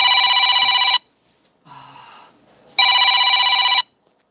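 A telephone rings in a home kitchen while pastry is being made: two loud, close, electronic trilling bursts of about a second each, separated by a pause with a faint shuffle.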